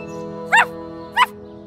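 A cartoon puppy gives two short, sharp yips about half a second apart over a soft musical background.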